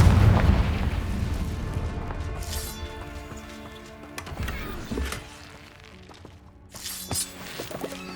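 Booming blasts of the Confringo explosion spell in Hogwarts Legacy, a heavy rumbling burst at the start followed by several sharper cracks and debris-like clatter.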